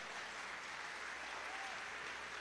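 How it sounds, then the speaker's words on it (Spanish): Audience applause fills a concert hall at the Teatro Teresa Carreño, a steady dense wash of clapping from many hands that holds evenly, fairly faint and distant, through the whole moment without a pause. "Un aplauso para María."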